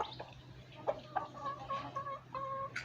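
A brooding hen sitting on ten eggs clucks in short, repeated calls over a steady low hum, with some calls drawn out into longer murmuring notes.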